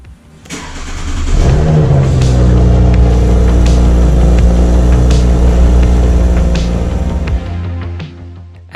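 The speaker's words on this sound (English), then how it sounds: "just listen to this cold start" Audi RS4 engine cold start, a loud crank that catches into a high, booming rev flare, then settles into a steady, rumbling fast idle, close and dominant with no talking.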